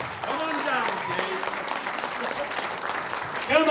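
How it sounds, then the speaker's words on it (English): An audience claps and cheers throughout, a dense steady burst of applause with a few whoops rising over it. "give her a round of applause"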